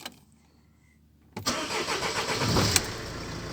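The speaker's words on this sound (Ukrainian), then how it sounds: "І пробуємо завести машину." A 2007 Mercedes Vito 639 van engine starts after more than a second of near silence. It cranks briefly, fires with a sudden rise in sound, then settles into a running idle that swells slightly before the end.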